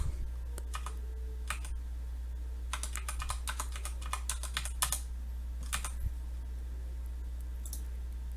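Number keys tapped on a computer keyboard in short bursts of crisp clicks, close and fairly loud, with pauses between groups over a steady low hum.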